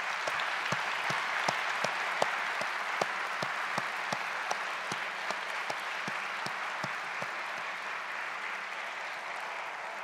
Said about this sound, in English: graduates, would you please join me in a round of applause for all the Swinburne staff?